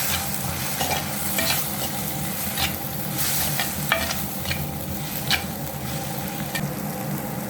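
A steady sizzle of curry masala and chili powder frying in a pan, with repeated scraping and tapping of a spoon stirring through it.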